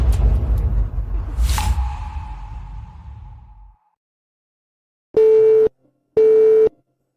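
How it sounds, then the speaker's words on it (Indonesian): Two short, loud electronic phone tones beep at an even pace after a call is hung up in a drama scene, following a fading whoosh and rumble and a brief silence. "Kenapa Ayu memutuskan telepon?"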